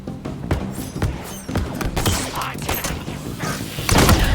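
Enemies in Halo Infinite spinning away and exploding: a rapid series of thumping blasts and crackling bursts over several seconds, loud and close, with a heavier explosion near the end.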